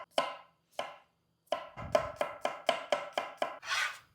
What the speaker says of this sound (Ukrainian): Дивіться, нарізаю часничок ось такими пластинками.